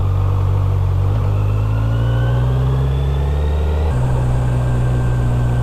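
A 2025 Kawasaki Z900 SE motorcycle ridden around Filinvest Alabang with the quick shifter off, its engine droning loud and close, rising in pitch, then dropping sharply as the rider shifts gear with the clutch before pulling again.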